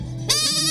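A person imitates a goat's bleat with a single short, nasal, wavering vocal call, close and loud, lasting under a second with no other sounds around it.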